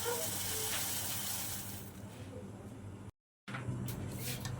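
Water sizzles and hisses steadily in a hot kadai over a gas flame, a continuous close hiss that thins out midway, breaks off briefly, then returns.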